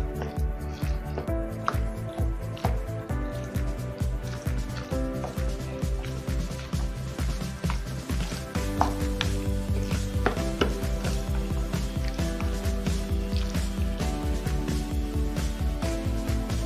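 Potato salad with relish being stirred in a bowl: continuous wet squishing and soft scraping with rhythmic spoon strokes, fairly close and steady throughout.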